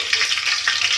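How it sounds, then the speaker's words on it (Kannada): Mustard seeds splutter in hot oil as the tempering for a radish sambar begins, giving a steady bright sizzle with quick scattered pops close by, with no voices. "ಸಾಸಿವೆ ಸಿಡಿದ್ಮೇಲೆ"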